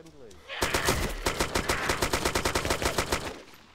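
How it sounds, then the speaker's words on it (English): Rapid gunfire in the survival video game DayZ, loud and close, with shots cracking in a fast, steady automatic rhythm for about three seconds after a brief quieter lead-in. "If you hadn't fired at us, we wouldn't have fired at you."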